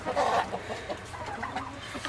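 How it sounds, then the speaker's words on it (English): Chickens cluck in a snowy farmyard, a short burst of nearby clucking with softer scattered clucks following. "And then the other chickens are on the roof."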